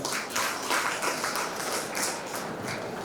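A college hall audience at a Vinayagar Chaturthi debate event applauds to welcome the next speaker, many overlapping claps sustained at moderate volume from a distance.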